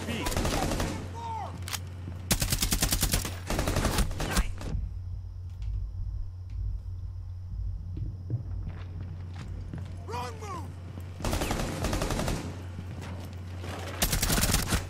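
Rapid bursts of automatic gunfire in a terrorist-hunt video game, loud and close, coming in several long volleys separated by quieter stretches with footsteps and voices talking over the action.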